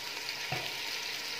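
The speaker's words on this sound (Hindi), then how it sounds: "फिर इसको थोड़ा सा भून लेंगे." Ginger-garlic paste fries quietly in a pan of chicken and chickpea curry, a faint soft hiss with one brief stirring scrape partway through, low and steady with no voices.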